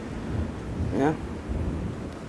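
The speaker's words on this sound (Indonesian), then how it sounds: "Waduh, ada petir lagi." Thunder rumbles during a rainstorm, a low rolling boom under steady rain noise, with a short spoken word over it.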